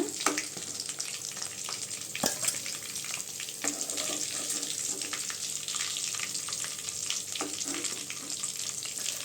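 Kilanga fish frying in hot oil, a steady dense sizzle running throughout with a few sharp crackles and spatters, close and alone with no talk.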